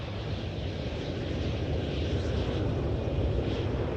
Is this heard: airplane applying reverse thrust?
yes